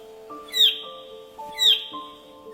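Superb bird-of-paradise from the rainforests of Papua New Guinea giving two loud, sharp descending calls like a sci-fi laser gun, evenly spaced about a second apart over faint background noise.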